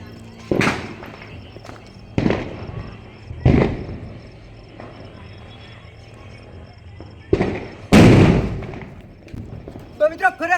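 Diwali firecracker bombs going off outdoors, several sharp loud bangs spaced a second or more apart with a burst near the end, people talking quietly between blasts.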